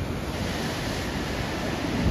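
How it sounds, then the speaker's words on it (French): Ocean surf at Tofino roars steadily, a broad, continuous wash of waves with wind rushing across the microphone throughout. "Regardez-moi ces vagues."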